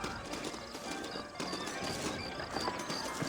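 Horses in the Red Dead Redemption video game clop their hooves in a steady, close, continuous patter, with a faint whinny mixed in and no clear speech.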